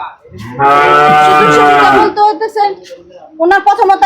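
Cattle low loudly at a cattle farm. One long, close moo is followed by shorter, broken calls and a second moo near the end.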